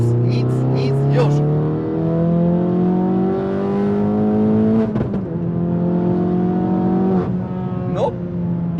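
A car with a turbocharged engine accelerates hard from third gear, its engine note climbing slowly and steadily through the revs, with a couple of abrupt breaks as the pull continues, heard loud and close from inside.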